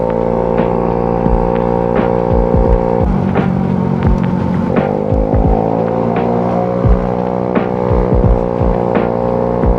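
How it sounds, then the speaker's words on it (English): Car exhaust droning and throbbing inside a tunnel, a loud continuous engine hum with rising pitch shifts and echoing reverberation, steady throughout with passing traffic pulses. "I love the sound of tunnel exhaust."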